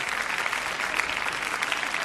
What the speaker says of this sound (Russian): Кто из выступающих соберет больше аплодисментов, тот и выиграл.